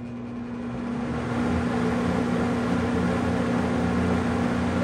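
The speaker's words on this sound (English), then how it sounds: "a fan that's probably 40, 50 years old, the sound is strong" An old Edison Toastmaster electric fan, roughly 40 to 50 years old, runs loudly and steadily with a strong motor hum and broad rushing air that swells up over the first second and then holds constant, with no talking.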